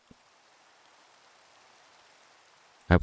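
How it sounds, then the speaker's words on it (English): Steady rain falls in a modded medieval block-building video game, a soft even hiss of raindrops running throughout, closing with a brief louder clatter of game sound. "Even the rain in this mod pack is cool."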